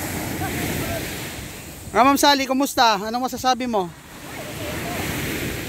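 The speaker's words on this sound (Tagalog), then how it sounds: "Grabe, nakaka-relax yung alon." Surf breaking steadily on a white sand beach at an island eco resort, a constant wash of waves heard close by, with people talking over it in the middle.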